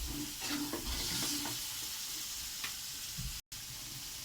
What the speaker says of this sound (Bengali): এটা ভালো করে কষাবো।